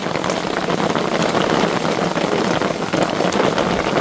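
Hail pelting an awning in a storm above Telluride, Colorado, a dense, loud, continuous patter of hard impacts close overhead.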